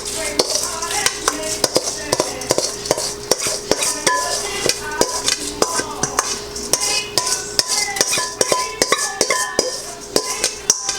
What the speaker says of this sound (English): And then you're going to stir it up.